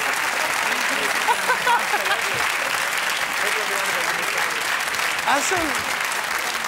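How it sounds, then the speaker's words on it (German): A German TV studio audience applauds steadily and loudly throughout, with a host's voice talking over the clapping. "Ja, aber einen kleinen Applaus, meine Damen und Herren."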